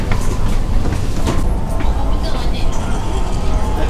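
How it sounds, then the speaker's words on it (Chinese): A Malaysian ETS train at a station gives off a loud, steady low rumble with bright clanks and hiss, while people talk over it. "两个是火车"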